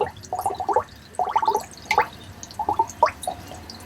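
Air bubbles gurgle and pop in irregular clusters as gas escapes a deep-caught bass's swim bladder after fizzing in a livewell, a close, wet burbling that comes in several short bursts.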